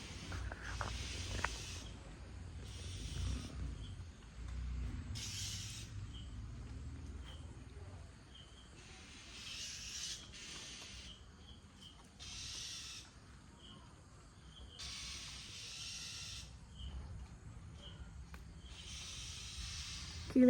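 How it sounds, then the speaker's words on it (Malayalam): Small birds chirping in a yard after rain, faint high peeping calls coming in short bursts from a few directions over a quiet, hissy outdoor background. "കുഞ്ഞു കുഞ്ഞു കീക്കി സൗണ്ട് അവിടെ നിന്ന് ഇവിടുന്നൊക്കെ കേൾക്കുന്നുണ്ട്"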